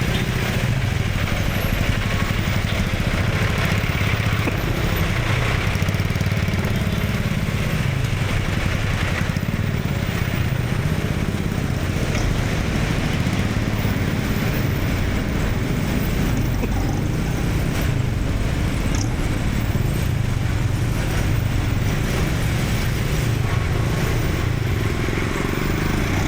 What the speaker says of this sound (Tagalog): Walang humpay na traffic.